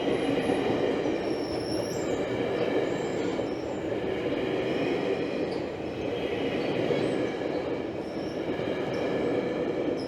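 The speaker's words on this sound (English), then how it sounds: "And we have a GO train." A GO commuter train in Toronto rumbles steadily past close by, wheels clattering with faint high squeals over a continuous low roar, no voices.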